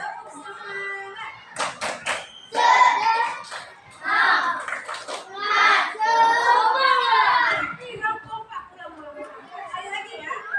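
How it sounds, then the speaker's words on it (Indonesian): A class of fourth-grade children performs a rhythmic spirit clap. Sharp clusters of handclaps alternate with loud chanted voices in a patterned sequence, close and lively. "Tepuk semangat."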